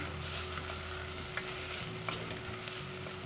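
Pilau masala being stirred into a hot, sizzling pan while cooking pilau, a steady frying hiss with soft scraping strokes close by.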